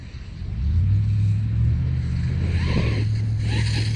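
A Traxxas X-Maxx RC truck drives past with a steady, loud motor whine and low rumble that rises and holds for several seconds.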